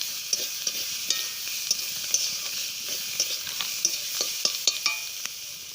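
Spice masala with chopped coriander leaves stirred in a pan for an egg potato snack: a steady sizzle carries repeated sharp scrapes and clinks of a spatula against the metal, close and alone with no voices.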